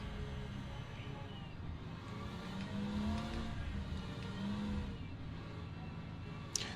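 A GT3 or LMP2 race car engine revs and shifts in Le Mans Ultimate, a moderate, steady drone with rising and falling pitch sweeps, ending in a brief sharp click.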